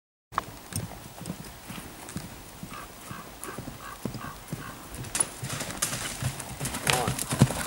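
A pony's hooves clip-clop in a steady, even rhythm on a cross-country obstacle course at Niinisalo, moderately close and growing slightly louder, with outdoor ambience around them.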